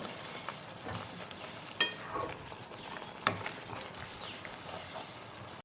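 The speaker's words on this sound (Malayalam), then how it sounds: "നന്നായിട്ടൊന്ന് ഇളക്കി യോജിപ്പിച്ച് കൊടുക്കാം" A spoon scrapes and clinks around a pan in irregular strokes over a soft sizzle while stirring egg curry with tomatoes, fairly quiet with no talking.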